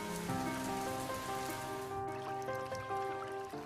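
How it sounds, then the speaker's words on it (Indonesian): Rain falling steadily during the rainy season, a constant hiss of drops with tonal hum-like lines beneath, soft and even throughout, with no talking. "Musim hujan tiba"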